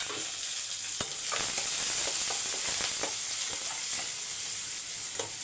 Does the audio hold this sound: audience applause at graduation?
no